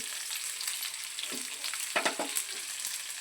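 Curry leaves drop into hot oil for a sweet-sour raw mango paluvu, bursting into a crackling sizzle with a few sharp pops and stirring scrapes close by, with no talk.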